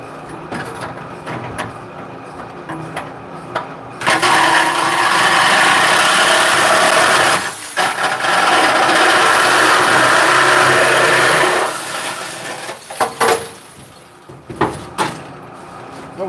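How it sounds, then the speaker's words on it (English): Sawzall-type reciprocating saw cutting, loud and close, a harsh continuous buzzing roar that runs for several seconds, breaks briefly, resumes, then stops into short bursts and scattered clunks. "Don't you love using a sawzall?"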